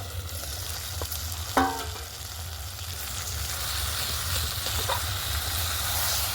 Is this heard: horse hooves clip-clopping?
no